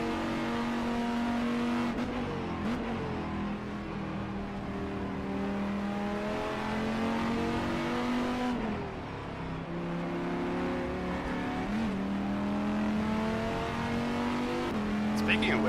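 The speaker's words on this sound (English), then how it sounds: "The old Dodge V10." A Dodge Viper GT3 race car's V10 engine in the rFactor 2 racing game at Sebring, revving steadily with rising and falling pitch sweeps through gear changes, loud and continuous, with occasional talk over it.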